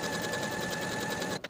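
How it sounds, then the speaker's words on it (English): A sewing machine runs steadily, stitching a seam along the folded top edge of a blouse facing with a 3/8 inch seam allowance, a continuous close hum that cuts off abruptly near the end. "Sew from the top of your facing and over that folded edge, and then continue with that 3/8 of an inch seam allowance"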